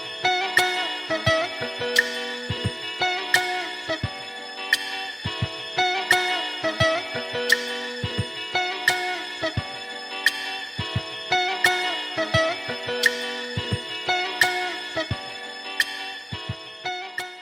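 A looped, pitched musical sample repeats in a steady rhythm with crisp percussive hits, processed with RC20 for a slightly worn, vinyl-like vintage texture.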